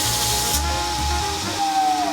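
A surface grinder's wheel whines and winds down as it stalls, a steady machine hum with a high tone that drops in pitch near the end.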